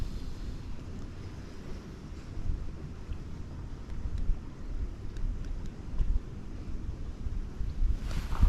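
Wind gusting by the River Thames during a fishing match, roaring in low, steady buffets across the microphone, with faint water lapping and a sharp knock at the very end.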